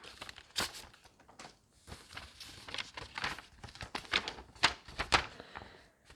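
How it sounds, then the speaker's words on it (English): A crisp white paper envelope is torn open up close, giving a steady run of dry crinkles, rips and paper rustles with several sharper tearing peaks, all fairly quiet and without talk. "Got another crisp white envelope here. Gonna open it."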